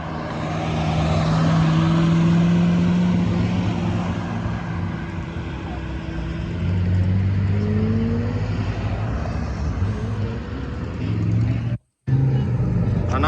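Zenvo TSRS supercar passing at a street event while chasing the Gumball 3000 rally in the UK, a loud steady engine roar with low droning tones rising and falling as other cars rumble nearby, with a brief dropout near the end.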